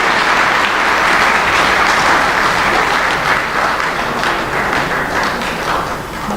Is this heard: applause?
yes